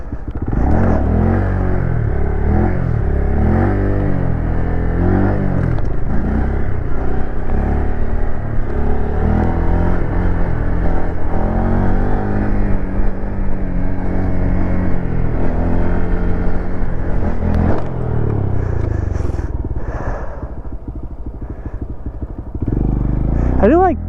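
A motorcycle rolls slowly in first gear, its nearby engine droning steadily and rising and falling in pitch for the whole stretch, with brief revs and a rougher patch near the end.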